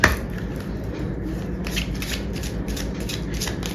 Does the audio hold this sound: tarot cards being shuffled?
yes